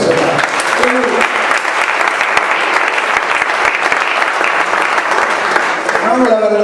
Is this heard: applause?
yes